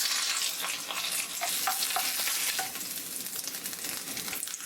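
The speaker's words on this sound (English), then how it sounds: "I love frying egg with the, bacon oil." Egg frying in bacon oil in a pan, a close, steady bright sizzle and crackle with a few small pops, continuous and fairly loud with no talk.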